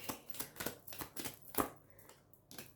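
Tarot cards being shuffled and drawn, a series of quick crisp riffling snaps and flicks in an irregular rhythm, close and fairly quiet with no talking.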